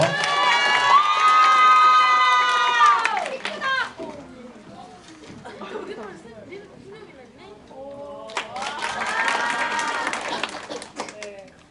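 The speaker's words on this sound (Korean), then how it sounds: "박수로 환영해 주세요" A school assembly audience at a girls' high school reading event bursts into loud cheering, shouting and applause as a student representative is welcomed, fading for a few seconds before swelling again.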